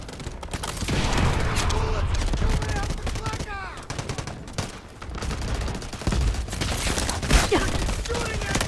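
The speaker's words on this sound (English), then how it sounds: "Artillery barrage incoming." Artillery barrage in the Delta Force shooter game, dense rapid booming and crackling gunfire close and loud, with brief whistling streaks over the barrage.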